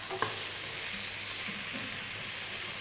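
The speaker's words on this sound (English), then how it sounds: "Give those a little bit of a stir through" Food frying in a pan gets a brief stir, a scrape and clack over a steady broad sizzle that stays close and even throughout.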